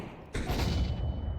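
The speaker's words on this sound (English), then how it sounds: "Throwing a grenade. Flashbang." A flashbang grenade in Counter-Strike 2 going off, a single sudden thudding burst followed by a sustained ringing rumble that slowly fades.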